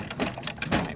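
A hand-cranked press squeezing gold turns with repeated mechanical ratcheting, gear-like clicks and grinding pulses in an uneven rhythm, heard close up.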